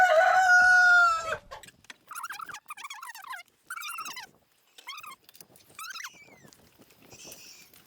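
A rooster crows loudly up close, followed by a series of chickens, including a broody hen with chicks, clucking and cackling in short, uneven bursts.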